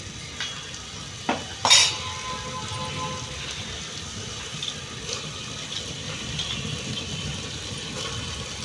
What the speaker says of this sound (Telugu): వంట పైకి ఇప్పుడు ఒకసారి కలబెట్టుకున్నాము చికెన్ని